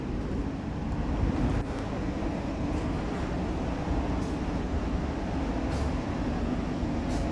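Steady, continuous rumble of an Argo train running after leaving Solo Balapan station, heard from inside an executive-class carriage, with broad rolling noise and faint rail clicks, no talk.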